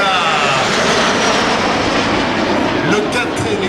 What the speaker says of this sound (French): le 4 et les 4 autres Alpha Jet. Et oui, la patrouille de France évolue à 8 avions